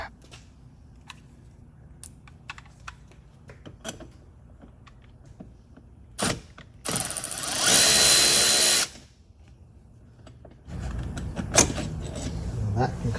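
A power tool whirs in bursts as it pulls bolts from the front side of a Mercedes G500 W463. A long loud run comes midway and then another burst, among clicks and handling noise.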